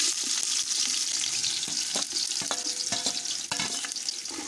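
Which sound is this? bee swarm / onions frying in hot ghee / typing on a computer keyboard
onions frying in hot ghee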